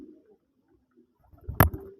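A white akashi pigeon among a keeper's home flock gives a short, soft coo, preceded by faint low murmuring and then a single fuller burst of cooing near the end.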